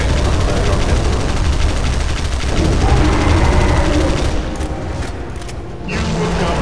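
Sustained rapid gunfire pours onto a fire beast in a video game, a dense continuous barrage of loud shots that holds steady for several seconds before briefly thinning near the end.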